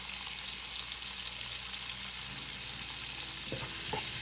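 Seasoned cabbage and sausage fry in a pan, with a constant close sizzle and hiss while the mixture is stirred, a few soft scrapes near the end, and no talking.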